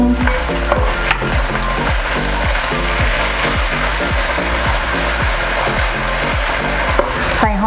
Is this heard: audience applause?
no